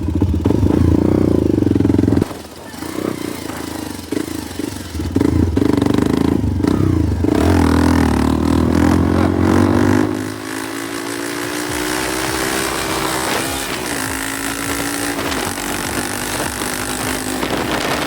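A modified motorcycle engine roars near and loud, dips briefly, then pulls hard in second gear. Its pitch climbs steadily as it accelerates, then settles into a steady high drone.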